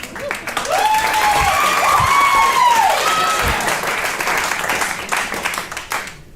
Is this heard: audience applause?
yes